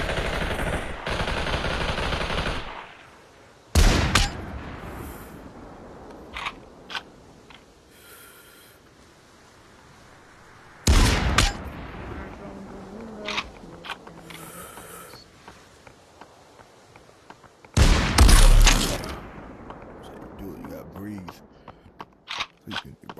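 Sniper rifle shots in the VR shooter Population One on Meta Quest 3: three loud, sharp cracks spaced several seconds apart, with quieter game noise and occasional voices between them.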